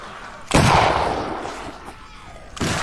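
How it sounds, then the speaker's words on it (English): Musket volleys in Arma 3 with its Napoleonic wars setting: two loud, close bursts of massed gunfire, each followed by a rumbling decay. "Fire at will, gentlemen!"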